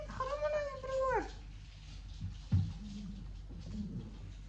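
A dog growls quietly at another dog indoors: a short whining, howl-like cry at the start, then low rumbling growls in brief bursts.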